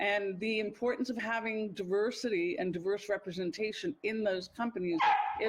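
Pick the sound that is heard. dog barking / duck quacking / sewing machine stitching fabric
dog barking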